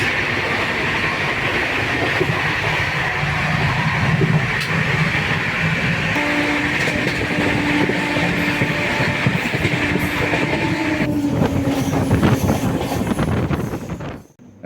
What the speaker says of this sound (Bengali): রাজধানী তার নিজের গতিতে চলেছে